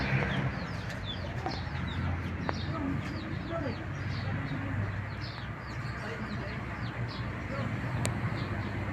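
Chicken chicks peep in repeated high, thin chirps from close by, with a steady background hum and occasional clucking.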